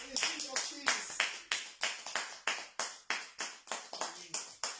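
A congregation claps in acclamation of the King of Kings, a loud, steady rhythm of about three claps per second, each sharp and close, with voices heard faintly beneath.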